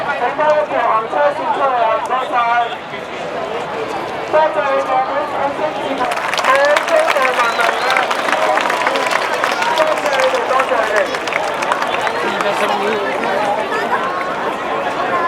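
A crowd at a 2012 street rally outside Civic Square in Hong Kong bursts into loud sustained clapping and cheering, following someone speaking over a loudspeaker.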